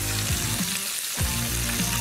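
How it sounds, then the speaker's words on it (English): Parma ham fries in a very hot pan, a steady close sizzle running throughout with a few brief stirring or shifting sounds over it. "Parma ham fried nice and crisp like that is incredible."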